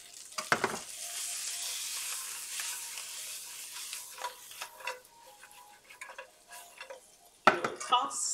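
Food tossed and sizzling in a hot frying pan in a Japanese-style hamburg steak kitchen, a steady fry hiss with sharp clanks of the pan at the start and again near the end, no talking.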